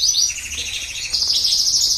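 Goldfinch chicks in a nest, some just hatched and one still hatching, give a steady stream of thin, high chirps and peeps, close and continuous with no talking.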